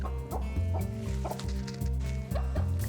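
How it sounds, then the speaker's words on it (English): A mother hen with her new brood clucks in quick, repeated rhythmic calls, close and fairly clear, a steady run of short clucks through the whole stretch. "When she gets very excited, she goes beep, beep, beep, beep, beep."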